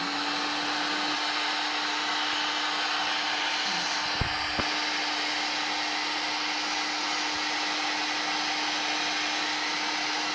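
A heat gun blows steadily to shrink heat-shrink tubing over the back of a 3.5 mm jack plug on a cable wrapped in nylon braid, a constant airy roar with a couple of faint clicks, no talking.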